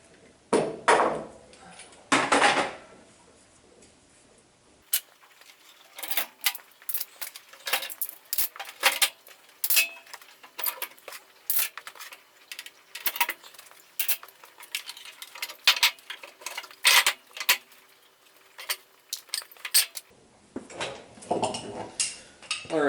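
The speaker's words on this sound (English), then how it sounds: "we're going to start by taking the C clamps off over here" Metal C clamps being unscrewed and lifted off a glued wooden benchtop in a workshop, giving a long run of sharp clinks, rattles and knocks at close range, with no talking.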